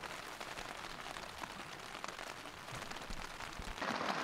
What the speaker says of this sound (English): Just been laying back in the tent, relaxing, listening to the rain